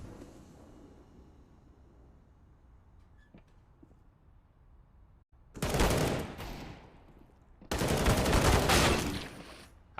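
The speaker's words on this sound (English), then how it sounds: "How well do you know your Galil's spray?" Galil rifle spray fire in Counter-Strike, on the Overpass map of a professional match, comes as two long, loud bursts of rapid automatic shots over a low background rumble.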